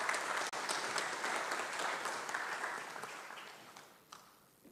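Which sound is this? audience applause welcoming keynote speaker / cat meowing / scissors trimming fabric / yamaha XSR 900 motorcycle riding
audience applause welcoming keynote speaker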